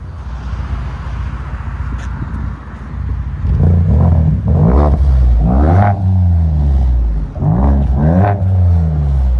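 Ford Edge ST with a 2.7L EcoBoost V6 running a muffler delete and LCGP resonators, idling with a steady low rumble before four or five sharp revs that rise and fall in quick succession, loud and close.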